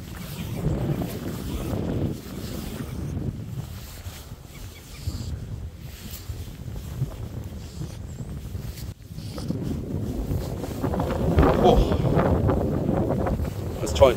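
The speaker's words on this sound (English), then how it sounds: "Try and turn you into the wind so you're not getting deafened." Wind gusting across a river out on the water, a steady loud roar of buffeting against the microphone that swells and builds toward the end, heard alone without talk.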